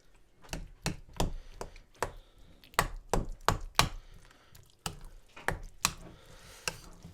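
Potato salad is broken up and stirred in a bowl, giving a series of sharp, irregular utensil taps and clacks with soft squishy mixing between them, close and fairly loud.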